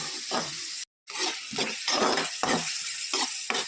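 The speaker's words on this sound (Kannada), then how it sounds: "ಈರುಳ್ಳಿ ಸ್ವಲ್ಪ ಫ್ರೈ ಆಗೋವರೆಗೂ ಬೇಯಿಸ್ಕೊತಾ ಇದ್ದೀನಿ." Onions fry in a pan with mustard seeds, cumin and curry leaves, giving a continuous close sizzle with stirring scrapes and clinks and one brief cut in the sound.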